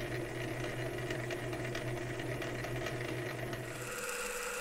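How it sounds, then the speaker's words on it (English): A South Bend 9A lathe cuts a fine 3/4-20 thread, taking off a small chip. It gives a steady, quiet mechanical hum with a faint rattle that runs unbroken throughout. "Pulling off a little fine thread there, little chip."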